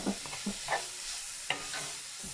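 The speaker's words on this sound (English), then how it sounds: "You just want it to sweat a little bit, just for the onion and the garlic to infuse a bit." Onion and garlic sweat gently in olive oil in a pan, a quiet low sizzle with several soft scrapes and taps of a utensil stirring, fairly close.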